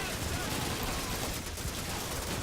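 Heavy machine gun fire in Call of Duty 2 United Offensive, a World War II shooter, rattling in a fast continuous burst that fills the short stretch with dense, loud noise.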